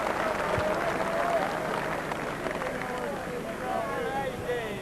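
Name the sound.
crowd applause at snooker match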